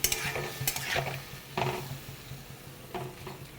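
Ripe red chillies sizzle in oil in a pan while a spatula scrapes and stirs in uneven strokes, with soft clinks against the metal over a steady frying hiss.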